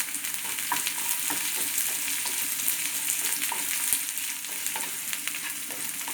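Chilies and shallots fry in hot oil for a taro stem curry, a dense, steady sizzle filling the whole clip with small crackles and occasional stirring scrapes close by.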